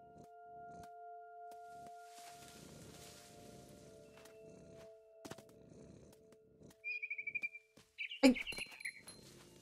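In the video game What Remains of Edith Finch, a small bird gives a few quick, high chirps near the end, above a low steady hum, soft rustling and footsteps.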